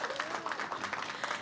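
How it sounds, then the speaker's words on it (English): Audience clapping at an MTA news conference for Autism Acceptance Month, a brief burst of scattered applause from a crowd in a room. "give yourselves a round of applause for being here"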